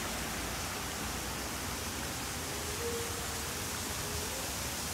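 An artificial waterfall and fountain at a Thai temple pour in a steady broadband rush of falling water, constant and fairly loud, filling the scene evenly without any speech.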